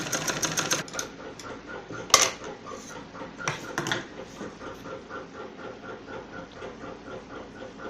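A sewing machine stitches the neckline of a kurti in short bursts, with fast mechanical rattling, a couple of sharp clacks and pauses between runs, close and fairly quiet.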